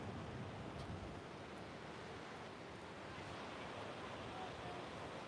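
Ocean surf rolling onto the shore at an oceanfront yoga session, a steady broad wash of breaking waves with some wind noise, continuous and fairly loud throughout, with no talk.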